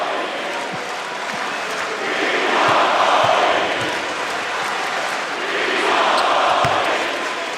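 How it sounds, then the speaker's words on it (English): Arena crowd at Kobe Bryant's final game against the Toronto Raptors, December 7, 2015, chanting in two loud, swelling waves over a steady roar, with a few faint ball thuds beneath. "the crowd chanting, "We want Kobe.""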